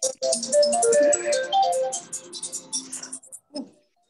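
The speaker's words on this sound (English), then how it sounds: "Oh, someone's got a phone call." A phone ringtone plays in a room during a breathing and fitness class, a busy electronic melody of repeated tones that runs about three seconds before cutting off abruptly, with a brief faint sound afterward.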